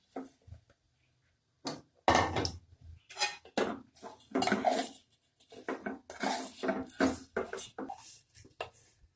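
Fine vermicelli being dry-roasted in a pan in a sunny home kitchen, with irregular scraping and clinking of a utensil against the pan in bursts, close and moderately loud, after a quiet start.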